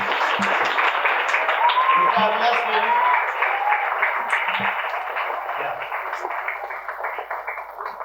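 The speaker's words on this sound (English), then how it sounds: "welcome him with a rousing, applause" An audience at a road safety awareness program applauds to welcome a speaker from Honda two-wheelers, with sustained clapping under the host's voice that tapers off gradually.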